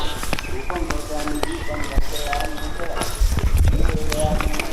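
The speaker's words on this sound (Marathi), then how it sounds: "रस्त्यात बैल बघा गायी आहेत सगळ्या ह्या" Bulls and cows walk along a Konkan village road, their hooves clopping in an uneven rhythm nearby while people talk over them.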